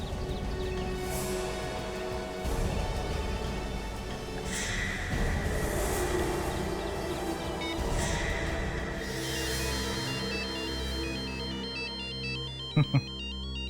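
A phone ringing with a repeating electronic ringtone, moderately loud and steady over a low background murmur, ending with a couple of sharp clicks.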